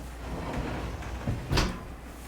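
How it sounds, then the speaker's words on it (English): A windowless sliding door in a shipping-container motel room is pushed aside, giving a short scraping rumble with a louder slide near the end, close by with no talk. "so we kind of like open the door, sliding door, no handle."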